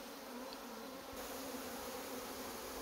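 Honey bees buzz in a steady, continuous drone close by, a packaged swarm held with its queen in a queen clip, with no voices.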